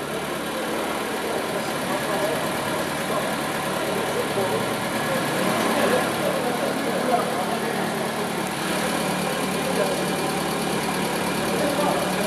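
A diesel vehicle engine idles steadily during an exhaust smoke test, a constant close rumble with a dense, noisy texture that stays level throughout, with people talking over it.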